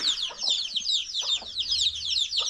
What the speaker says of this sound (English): So here we have baby hens here and the baby chicks.